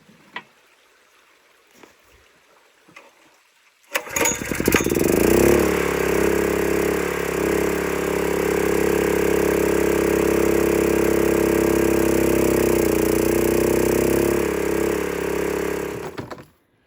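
A small engine-driven water pump starts up and runs steadily at a close, loud, constant drone for about twelve seconds before cutting off, preceded by a few faint knocks and clatters.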